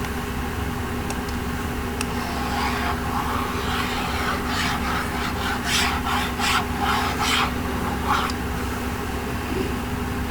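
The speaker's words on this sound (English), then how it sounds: "Now I am going to rub this to make some space." Steady rubbing strokes of erasing writing off a classroom board, a soft rhythmic scraping that grows in the middle and fades, over constant background hum with no talking.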